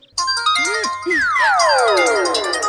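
A mobile phone ringtone plays loudly and continuously, a bright synthetic melody with sweeping descending tones and a low buzzing hum underneath.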